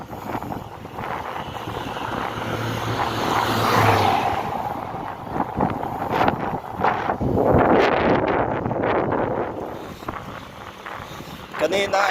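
Strong headwind buffeting a cyclist riding from Sitio Bangcag, Ramos to Tagumbao, Gerona in Tarlac, a steady loud roar of wind noise on the microphone with gusts rising and falling throughout.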